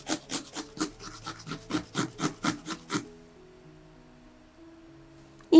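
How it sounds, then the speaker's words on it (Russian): Cucumber rubbed on a fine grater: a rapid rhythmic series of about a dozen close, rasping scrapes for three seconds, then quiet kitchen background with a faint tone. "Натираю огурец на мелкой терке."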